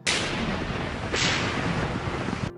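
A Leopard tank cannon fires in combat, two heavy booming blasts about a second apart, loud and close, each with a rumbling tail.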